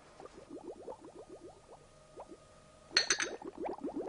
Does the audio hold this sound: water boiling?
yes